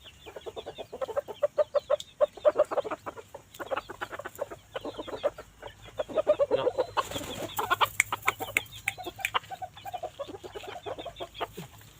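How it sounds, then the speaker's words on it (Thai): Short-legged bantam chickens cluck busily and close by, a dense run of short, overlapping clucks with occasional louder squawks over farmyard background noise. "ไก่เหลือง"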